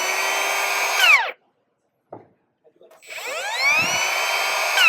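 A Milwaukee M18 Fuel 1/2-inch cordless plunge router whines at full speed, then its brake spins it down to a stop in a fraction of a second. After a short silence with a few small knocks, it spins back up to a loud, steady whine.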